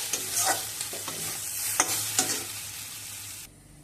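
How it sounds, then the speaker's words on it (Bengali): Okra frying with a spice mix is stirred in a pan, soft sizzling under several distinct scraping strokes of a spatula, then the sizzle drops away abruptly near the end. "রেডি মশলা দিয়ে ভালো করে মিশিয়ে নিয়ে ওভেন বন্ধ করে দেবো রেডি হয়ে গেল ভেন্ডি ভাজা"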